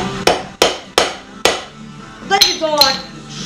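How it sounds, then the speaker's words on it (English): A hammer strikes metal four times in a steady rhythm, each blow ringing sharply, followed by lighter clinking and rattling. "I got a hammer, Case."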